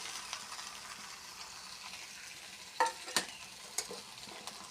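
Eggs go into a hot pan of fragrant oil and spices, making a soft continuous sizzle with a few sharp scraping clatters of a spatula against the pan, with no voices.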